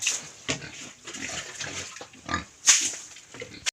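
Piglet squealing in bursts during castration on a rural farm, loud shrill cries with a sharp peak near the end, close by; no talking.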